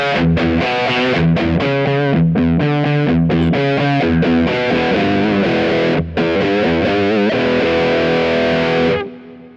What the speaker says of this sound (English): there are really different sound styles you can use with those wah-wah settings